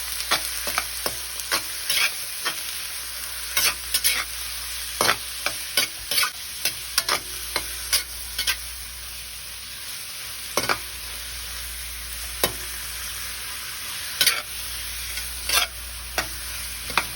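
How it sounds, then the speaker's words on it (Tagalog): Chicken liver and gizzards sauté in a pan, a steady broadband sizzle running throughout with frequent sharp scraping clicks of a utensil stirring against the pan, close and fairly loud, no voices. "At igisa natin ang atay at balon-balunan hanggang sa magbago ang kulay."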